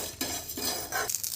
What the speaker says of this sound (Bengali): মশলাটা আমি খুব ভালোভাবে ভেজে নিচ্ছি।